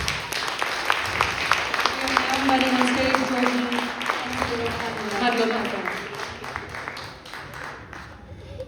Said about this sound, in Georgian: გთხოვთ შევეგებოთ ტაშით.